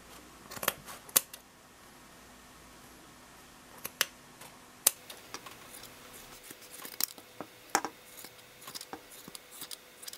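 Scissors snip through yarn while a crochet pom pom is trimmed for a toddler's hat, giving sharp, close clicks in irregular bursts over a quiet background with no talk.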